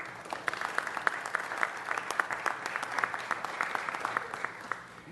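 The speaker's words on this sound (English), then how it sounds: "Let's give her a big round of applause." Steady applause from a gathered audience at a city council meeting, dense overlapping claps holding at a moderate level for several seconds with no talk over it.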